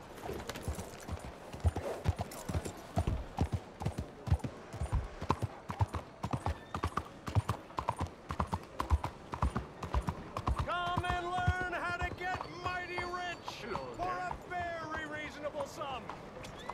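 Horse hooves gallop in Red Dead Redemption 2, a fast, even clip-clop that runs throughout, with tonal game sounds or music joining in the latter part.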